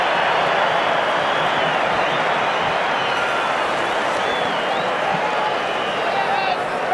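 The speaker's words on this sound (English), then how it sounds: "the crowd from Transvaal's point of view love it" Rugby stadium crowd at the 1993 Super 10 final between Transvaal and Auckland, a dense steady roar of cheering spectators filling the whole stretch, with a commentator speaking over it.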